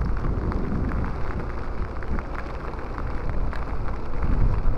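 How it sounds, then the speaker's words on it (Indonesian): Heavy rain driven by wind pours down in a steady, dense roar near a building in the city, with faint low rumbles mixed into the continuous downpour and no voices. "Lulululul, hujan angin coy."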